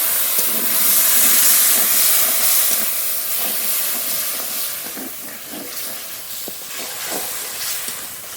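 Ginger-garlic and green chilli paste with a splash of water sizzling and hissing in a pan while being cooked down for chicken curry, a loud steady hiss with soft bubbling pops, close and alone.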